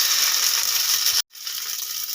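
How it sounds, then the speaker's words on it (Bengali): Loud, steady hiss and crackle of semolina parathas frying in hot oil in a kadai, close up, briefly cutting out for a moment before resuming. "সবগুলো পরোটা আমি ভেজে নেব"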